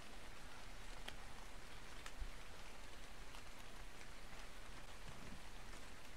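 Steady rain falls in the video game ARK Survival Evolved, a dense continuous hiss of drops with faint scattered patters and no voices.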